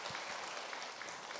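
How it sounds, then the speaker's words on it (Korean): A church congregation at a Sunday service claps together in a brief, steady burst of applause, with a few sharper individual claps standing out near the start. "다시 한번 박수해 주시기 바랍니다"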